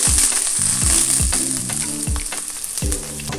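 Ginger, garlic and scallions are tossed in a sizzling wok, a spatula sweeping across the pan in quick rhythmic scrapes, roughly every half second, over a loud steady frying hiss.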